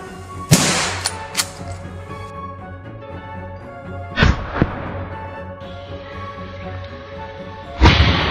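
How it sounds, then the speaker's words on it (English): Rifle shots ring out during a wild boar hunt at a forest edge, several sharp loud cracks spaced seconds apart, each trailing off in a long rolling echo. "raised his rifle, locked onto the target, and pulled the trigger"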